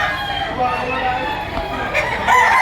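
A fighting cock crows among stags and cocks for sale at a poultry market, a loud nearby call heard over people talking.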